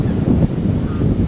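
Cold wind blowing at a Lake Huron beach, a brief, loud low rumble of gusts buffeting close by.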